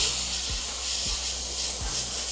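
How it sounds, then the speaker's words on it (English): Freehand airbrushing of a rust effect, a continuous loud airy hiss of spray held steady throughout, with a few soft low knocks underneath. "Now we're going to do a bit of freehand airbrushing as well."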